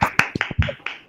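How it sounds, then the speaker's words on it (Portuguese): A few sparse, uneven claps over open microphones on an online call after an academic physics colloquium, each slap distinct and separated, close and moderately loud with a faint murmur underneath. "Todo mundo abrindo o microfone aí para bater palma para a Ayrton."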